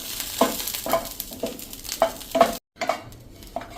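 Green chillies roasting in a pan on a gas stove, with a crackling sizzle and repeated stirring scrapes in short bursts, loud and close, broken by one brief silence near the end.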